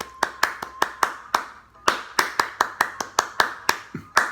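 Hand clapping in a rhythmic pattern, about twenty sharp claps at an uneven, syncopated pace, close and clear with no voices.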